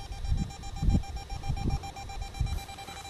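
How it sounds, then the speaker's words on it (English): An EMF meter beeps steadily with a thin high tone at a ghost-hunting site on a former Civil War prison camp, quiet and continuous under faint low rumbling handling noise. "I can actually find exactly where it's at by the sound of the meter."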